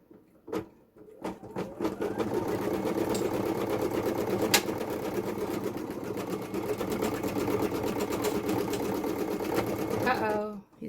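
An embroidery sewing machine starts up and runs continuously, a fast rhythmic mechanical stitching chatter at close range with a few clicks before it settles, then stops near the end.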